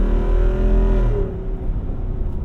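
Inside a 2024 Jeep Wrangler Rubicon 392 Final Edition with its 470-horsepower V8 on the move, a loud, constant low rumble of engine and tire roar mixes with broad wind rush that drops off partway through.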